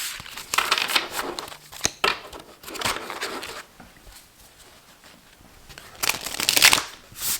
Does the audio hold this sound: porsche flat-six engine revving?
no